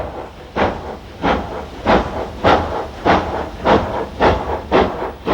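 A Hawksworth County class steam locomotive, the prototype 460, chuffs in a steady rhythm of loud, hissing exhaust beats, about eight of them evenly spaced and close by.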